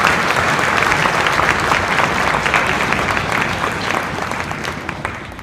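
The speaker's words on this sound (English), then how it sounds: "round of applause." Applause from the audience at a school summer band concert honouring the middle school staff: a steady, dense roll of clapping from a full room that holds for several seconds and eases slightly at the end.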